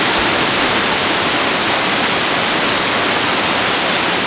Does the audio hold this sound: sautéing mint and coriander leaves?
no